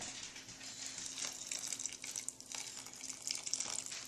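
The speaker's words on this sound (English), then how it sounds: "then you're going to add in your 1 cup of boiling water" A cup of boiling water is poured into chocolate cake batter in a home kitchen, a steady close liquid splashing and trickling with soft bright spatter, continuous for a few seconds with no talking.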